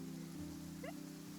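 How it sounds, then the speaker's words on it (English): Steady rain falls in the video game Genshin Impact, a constant soft hiss running through the whole stretch, with low game music humming underneath and a brief rising chime in the middle. "It's raining."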